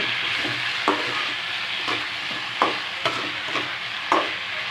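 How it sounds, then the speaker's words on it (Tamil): Brinjal sautéing in a pan for Tamil kara kulambu, a steady close sizzle of frying with a few sharp stirring scrapes and clinks of the spoon at intervals, no voices. "நல்லா அஞ்சு நிமிஷம் வதக்கி வச்சுக்கோங்க"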